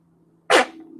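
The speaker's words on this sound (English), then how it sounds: "I'm gonna have to sneeze." A single sharp, loud sneeze bursts out after a quiet moment, followed by a faint lingering hum.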